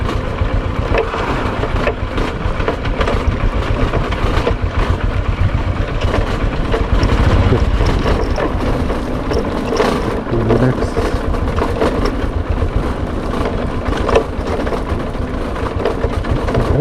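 A Honda Livo motorcycle descends a rough off-road hill, its engine droning loudly and steadily with rattling, bumping noise from the rough track throughout.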